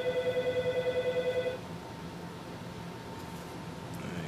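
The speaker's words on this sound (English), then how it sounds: "It's my phone ringing, but I'm gonna ignore it." A mobile phone rings indoors in a rapid, steady electronic trill for about a second and a half, then cuts off, leaving a quiet room hum.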